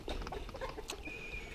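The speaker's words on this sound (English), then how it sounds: "this is where we keep the bantam hens themselves." Bantam hens, including lavender bantams, cluck softly inside a poultry brooder shed, with a few brief, faint calls close by and a thin high whine in the background.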